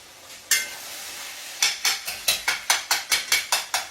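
A spoon stirs and breaks up homemade spaghetti sauce in a pan, close and clear: one scrape, a pause, then a quick, steady run of about ten rhythmic stirring strokes.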